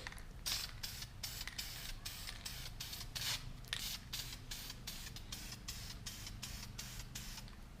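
Rapid repeated hissing bursts of an aerosol spray paint can, steady and close, each short spray following the last in a quick rhythm.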